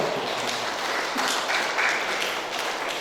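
Wedding guests applaud at a church celebration, a steady, dense patter of many hands with slight swells, carrying on evenly throughout.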